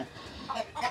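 Lohmann layer pullets at a farm in Cebu give a few soft clucks over a low background murmur, brief and moderately close.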